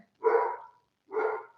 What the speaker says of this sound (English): first I will apologize for my dog barking because I'm pretty sure there's someone outside